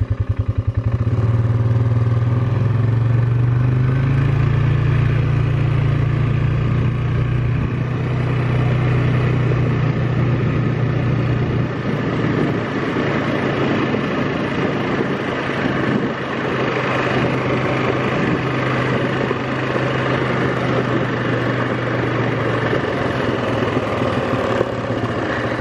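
A vehicle drives along a dirt road on a rural homestead. Its engine makes a steady, close, low rumble with rattling and clatter that continues unbroken throughout.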